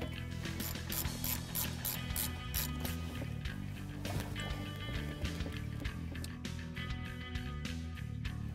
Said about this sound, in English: unbolt the thermostat from the engine and kind of push it aside